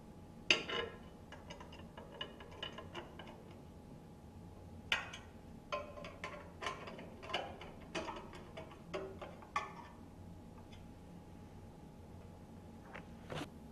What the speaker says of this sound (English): Now we can tighten the screws.